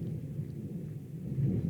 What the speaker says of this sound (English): we have some serious thunder going on right now